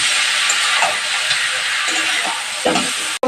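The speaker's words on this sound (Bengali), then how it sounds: "দিব হলুদ এবং সম্পূর্ণ একসাথে ভেজে দেবো এটা অনেকক্ষণ ধরে ভাজতে হবে" Dried fish frying with turmeric and salt in a pan, a loud continuous hiss and sizzle close by, with faint voice-like murmurs underneath.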